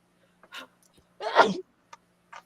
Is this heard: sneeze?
yes